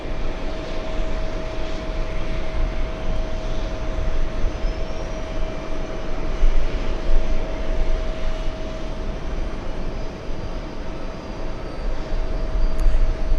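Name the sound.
Boeing 787 Dreamliner taxiing to gate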